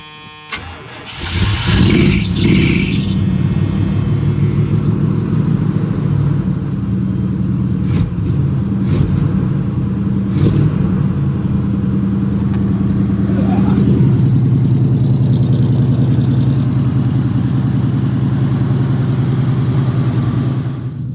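An old, freely donated hot rod cranks and fires after a new fuel line is fitted, then settles into a loud, rumbling idle in a shop. A few sharp revs break the steady idle, and a voice speaks briefly.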